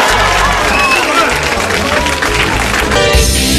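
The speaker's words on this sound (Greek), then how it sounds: "Ένα χειροκρότημα και για τα παιδιά" Crowd applause and cheering for children performing at a Greek show, loud dense clapping filling the whole stretch while someone speaks over it.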